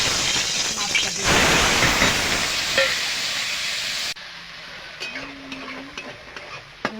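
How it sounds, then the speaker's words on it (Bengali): Prawns frying in hot oil in a kadai wok: a loud, dense sizzle that cuts off abruptly partway through, leaving a quieter crackle with a faint voice and light clinks. "মাছগুলো এভাবে উল্টে পাল্টে ভেজে নেব।"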